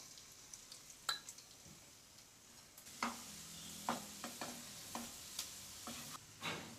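Chopped onion sautés in oil in a pan, with a faint sizzle beneath a series of spoon stirs and scrapes that come at irregular intervals, close but quiet, with no talk.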